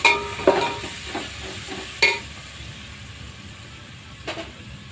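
Tomato frying in hot oil in a pan, with several sharp scraping and knocking strokes of a stirring spoon over a soft constant sizzle, the stirs spaced irregularly and close by.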